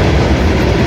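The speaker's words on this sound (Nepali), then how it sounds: "this is the train we came with and you're in the five number five bogie very large train" Sharq passenger train at Samarkand station, a loud, close, continuous rumble of heavy rail cars rolling past with a dense low roar and faint rhythmic clatter.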